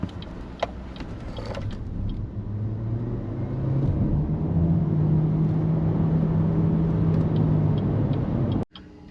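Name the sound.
BYD Shark 6 hybrid ute accelerating in 0 to 100 test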